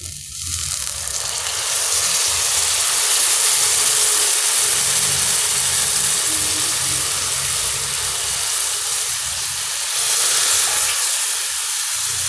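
Broad beans sautéing with onions in a pan for a Tamil avarakkai poriyal give a steady, loud sizzle and hiss that holds from start to finish, with a low rumble underneath and no talk.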